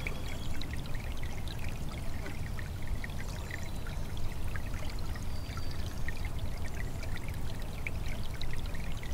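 A small groundwater-fed tributary stream on the Oak Ridges Moraine in southern Ontario flows close by, a continuous rushing, babbling pour with steady loudness and no voices.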